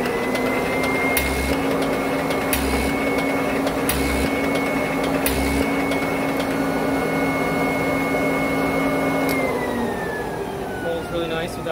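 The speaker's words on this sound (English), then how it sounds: "We use it to put a nice crease in the paper before we fold so that it doesn't crack." A paper creasing machine runs in a print shop with a steady, loud mechanical whir and hum. A steady pitched tone drops near the end, and low rhythmic thumps repeat about four times early on.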